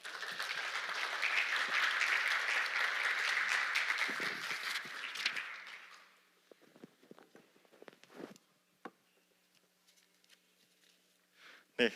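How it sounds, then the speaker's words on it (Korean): Audience applause closing a youth leaders' forum presentation in Jeju, a dense, loud round of clapping for about six seconds that tapers off into scattered claps and room noise. "다시 한번 큰 박수 부탁드리겠습니다"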